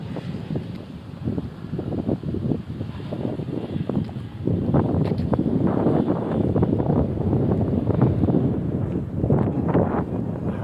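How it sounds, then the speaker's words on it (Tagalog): Steady gusty wind roaring against the microphone outdoors on a sunny day during a walk, with broadband rumble swelling louder partway through and no voices. "Hangin."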